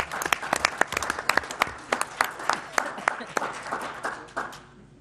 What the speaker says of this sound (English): She definitely deserves that round of applause.